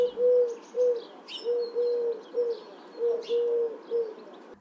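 Spotted dove or Eurasian collared dove cooing in a steady run of soft, low, rounded notes in repeated phrases, with faint higher chirps from other birds behind.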